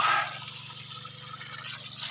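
Water sprinkles and splashes steadily onto bamboo plants in the dry season, a continuous close hiss of falling water with no talking.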